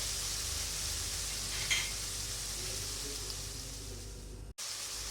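Cabbage, capsicum and carrot fry in a pan with spices, a steady close sizzle and hiss running throughout, with one brief soft clink partway and a short cut near the end.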